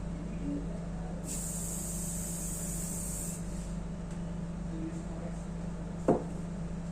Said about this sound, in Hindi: 1 फीट दूर रखना है इसे और स्प्रे करना है 1 फीट दूर 45 डिग्री के एंगल पे। और ये हमने स्प्रे किया।